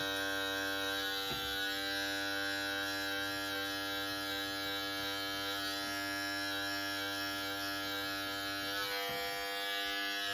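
Electric clippers buzz steadily while trimming a beard, a close, even hum with a strong harmonic whine that holds throughout, with faint brushing touches against the hair.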